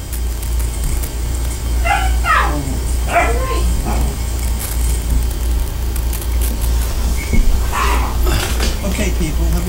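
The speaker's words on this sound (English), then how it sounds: "I hope they can hear the puppies." Small yips, whimpers and high barks from puppies come in short bursts over a steady low hum, with some talking mixed in.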